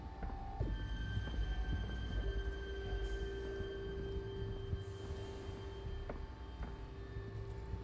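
A modified train car in Batman: The Telltale Series rolls along with a steady low rumble and rattle, a constant mechanical drone with faint tonal whines running underneath.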